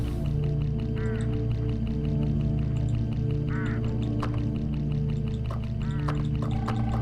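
Hooded crows along a road in the Hitchhiker mystery video game give harsh, nasal caws, about three spaced calls over a constant low engine-like drone.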